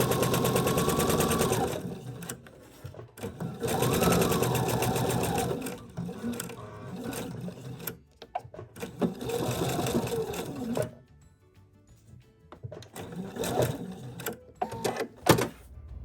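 A home sewing machine stitches a quarter-inch seam for a skateboard stuffie in short bursts of rapid mechanical chatter separated by pauses, with quieter handling noises and a few sharp clicks near the end.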